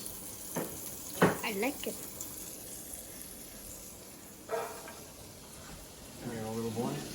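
Onions frying in a pan with olive oil and a little butter, a soft steady sizzle in the background while people talk over it.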